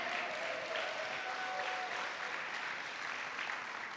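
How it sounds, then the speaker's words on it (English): An audience at a San Francisco minimum wage event applauds steadily, a dense sustained clapping from a large crowd, loud and even throughout with no talk over it. "Let's give a round of applause for everyone who has their hand up in the air."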